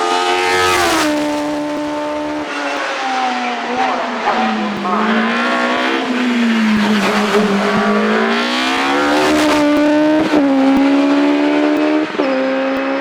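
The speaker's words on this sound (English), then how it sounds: "Another Pilbeam this time, and it's the aluminium monocoque MP56, the immaculate car of Gordon Marston" A Pilbeam MP56 aluminium monocoque hillclimb race car screams past at a British hillclimb event, its high engine note climbing and dropping through rapid gear changes, loud and sustained across the whole stretch, with tire squeal and no voices.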